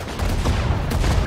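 Dense rattling gunfire in the Sudden Strike 4 strategy game, a loud continuous volley of overlapping shots with a couple of sharper bursts, heard alone.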